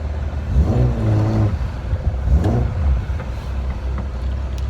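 A 1971 Datsun 240Z with triple Mikuni carbs and a MagnaFlow exhaust accelerates on the road, heard from inside with two short revving surges over a low, rumbling engine drone.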